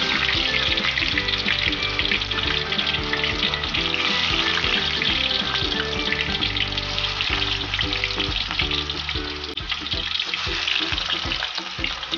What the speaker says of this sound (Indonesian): Pertama-tama kita akan goreng tahunya.